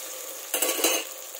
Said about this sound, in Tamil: தக்காளியை சேர்த்து நல்லா வதக்குவோம்.